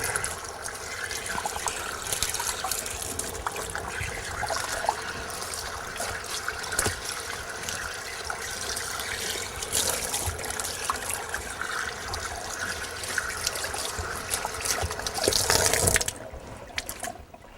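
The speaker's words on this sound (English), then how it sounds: "The first step is to wet the hide down because if you've got running water to do that" Running tap water splashes steadily over an animal hide being wetted down for skinning, a continuous hissing rush with small gurgles and drips, fairly close, ending with a brief louder burst before the flow stops.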